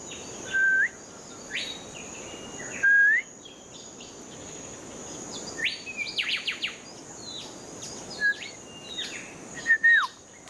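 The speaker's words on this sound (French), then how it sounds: "des siffleurs dorés. C'est un oiseau qui est présent à Lifou" Golden whistlers calling on Lifou in the Loyalty Islands: scattered clear whistled phrases with rising and falling sweeps, some close and loud, over a steady high insect drone.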